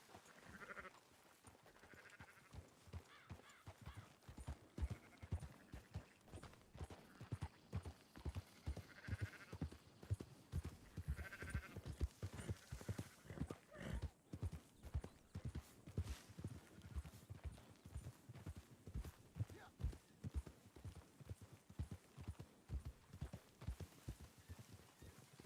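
Horse hooves clip-clop in a steady, even rhythm through a long ride in Red Dead Redemption 2, while sheep being herded bleat now and then in short bursts at moderate distance. No one speaks.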